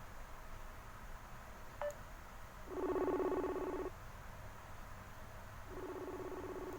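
A Facebook call rings out in repeated bursts of tones, a first ring about a second long followed after a pause by a second one, fairly loud over a quiet room background.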